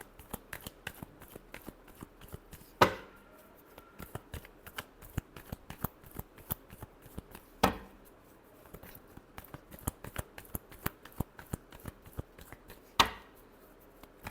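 A deck of tarot cards being shuffled close by, with crisp, rapid riffles and slaps repeating steadily for several seconds, broken by three louder sharp snaps of the cards, and no voice.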